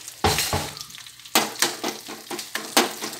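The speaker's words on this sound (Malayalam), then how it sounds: "കറിവേപ്പിലയും കൂടെ ഇട്ട് നമുക്ക് താളിച്ചു." Curry leaves and dried red chillies hit hot tempering oil for mango pulissery, setting off loud, close bursts of crackling sizzle that flare, ease and surge again in uneven pulses.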